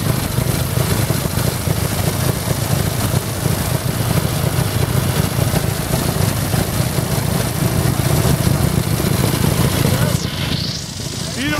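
A 1936 Indian Chief motorcycle engine runs steadily with a continuous low, rough rumble close by, and voices talk over it throughout before the noise drops at the end.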